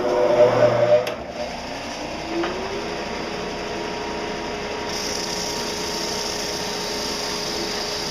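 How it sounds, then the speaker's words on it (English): A power sander whirs steadily on the wooden bottom of a knick-knack shelf, a sustained motor tone with a brief louder burst at the start, then an even, continuous drone. "Here at the sanding station, I'm going to even out the bottom."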